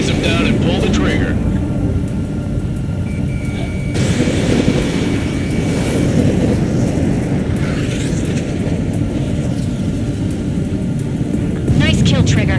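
Jet fighters roar in a combat flight sim, a loud continuous engine rumble filling the whole stretch with heavier bursts near the start and end, radio chatter running over it.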